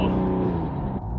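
A turbo diesel Mercedes fitted with a large new fuel pump accelerating hard, its engine note a loud, close roar that shifts and fades slightly over a short burst.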